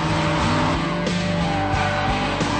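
A Nissan S14 and a Nissan Skyline drift in a competition battle, engines roaring loudly with shifting revs and tire squeal over the whole stretch.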